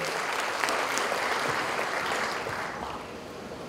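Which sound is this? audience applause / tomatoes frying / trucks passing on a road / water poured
audience applause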